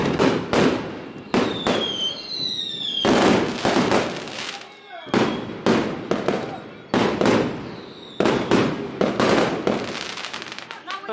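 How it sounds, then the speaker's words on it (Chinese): Firecrackers bursting in rapid, loud volleys at a Miao Guzang festival in a small village square, sharp cracking bursts repeating for several seconds with brief gaps, crowd noise and a whistling rocket streak mixed in. "现在一直在放炮竹，非常大的声音啊！"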